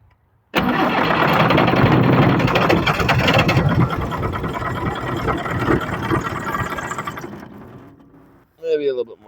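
A homemade wood splitter's small engine cranks, catches abruptly and runs loud and close for several seconds before dying down, followed by a brief burst of talk at the end.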